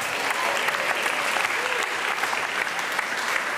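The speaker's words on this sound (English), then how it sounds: "Big applause for Jonas Vingegaard." A crowd applauds steadily, sustained clapping from many hands filling the whole stretch at an even level.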